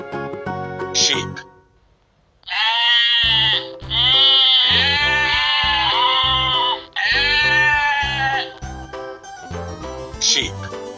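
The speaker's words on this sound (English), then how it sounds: "Sheep." A sheep bleats in several loud, wavering calls close up, set over a rhythmic musical backing with brief chime-like accents, and no talking.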